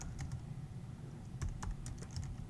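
Quick, light keystrokes on a computer keyboard while entering a Google search, close and fairly quiet, with a few short bursts of taps over a low steady background hum and no talking.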